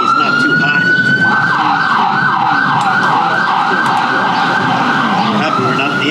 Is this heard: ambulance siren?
yes